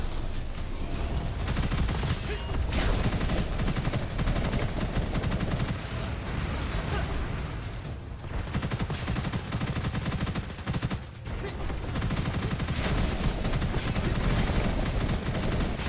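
Sustained automatic gunfire in the shooter game Gunfire Reborn, a dense, loud stream of rapid shots running almost continuously with only brief pauses, no voices over it.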